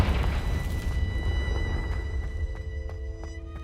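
A Confringo fire spell in Hogwarts Legacy erupts in a deep, rumbling boom that fades over about a second, followed by a few faint crackles and pops as the blast dies away.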